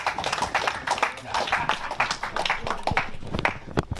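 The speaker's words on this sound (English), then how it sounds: "I will ask a round of applause for the newly elected executive." A crowd at a swearing-in ceremony for newly elected executives of a Ghana diaspora council claps, a close, dense run of uneven hand claps lasting several seconds.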